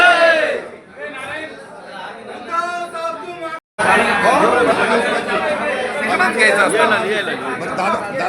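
A crowd chatters loudly at Shiv Sena Bhavan, many overlapping voices in a dense, steady babble, with a clearer voice speaking near the start before a brief cut.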